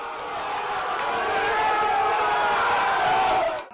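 Football fans roar and cheer for Cavani's goal for Uruguay at the World Cup, a dense, sustained crowd din with scattered whoops, heard from within the stands.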